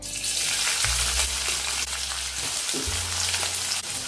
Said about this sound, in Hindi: अभी हमने थोड़ा सा ही तेल इसमें रखा है, तो अभी इसमें डाल देंगे प्याज